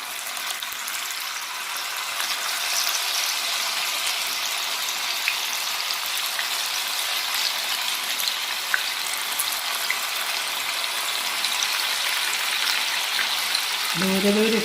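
Chickpeas sizzling as they fry in hot oil, a steady, bright crackling hiss that holds evenly and close for the whole stretch, with a faint clunk near the end.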